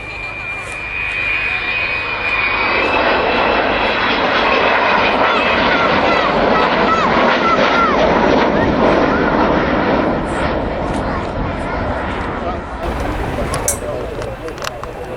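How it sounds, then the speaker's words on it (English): The Avro Vulcan XH558 delta-wing jet bomber passing over RAF Waddington, a loud, broad jet roar that swells in and holds steady before easing slightly, with a thin whine at the start and a public-address commentator talking over it. "Vulcan XH558. Coming back in towards us now, flown from the left-hand seat today by Kev Rumins."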